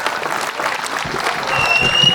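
Audience applause in an assembly hall at a Hindi poetry recitation, a continuous patter of many hands that swells slightly toward the end, with faint murmuring underneath.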